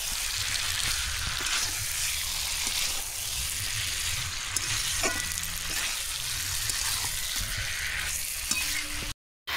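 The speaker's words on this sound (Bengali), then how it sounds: "আলু, ফুলকপি আর গোবিন্দভোগ যে চাল দিয়েছি কষানো হয়ে গেছে" Potatoes, cauliflower and Gobindobhog rice sautéing in a pan, a constant soft sizzle with occasional stirring scrapes, ending in a brief silence.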